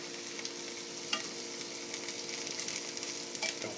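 Tofu stir-frying in a pan, with a continuous bright sizzle and a few faint scrapes and clicks of the utensil, close and even throughout.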